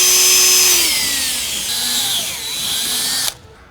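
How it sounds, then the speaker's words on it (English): A power drill with an 8mm bit boring holes into a car bumper while fitting a splitter kit on a Hyundai Kona N, a loud steady whine that dips in pitch under load and then cuts off abruptly. "take your 8mm drill bit and drill in your 3 holes"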